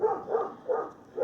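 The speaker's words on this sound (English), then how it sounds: "I'm sure the dogs are driving you crazy." Dogs barking indoors in a house, three or four muffled, rhythmic barks in quick succession at moderate distance.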